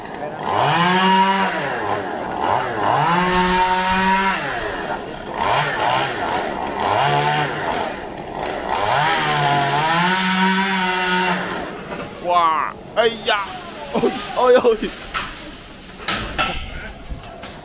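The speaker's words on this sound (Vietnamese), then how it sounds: "cố gắng cưa thêm một cái nhánh nữa" A chainsaw revs up and down in repeated surges as it cuts a heavy tree branch in a tight spot near a bell tower, loud and close, with a few rough sputters and knocks near the end.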